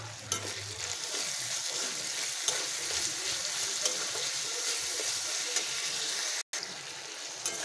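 Tomato and salt go into a hot frying pan for a Bengali dal with Malabar spinach and lentil bori, giving a steady, loud sizzle with stirring scrapes throughout and one brief dropout near the end.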